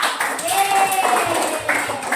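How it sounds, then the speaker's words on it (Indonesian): A classroom of students clapping their hands together at the end of a lesson, a short burst of rhythmic group claps close by, with a teacher's voice and chatter mixed in. "Oke, kita tepuk tangan dulu ya."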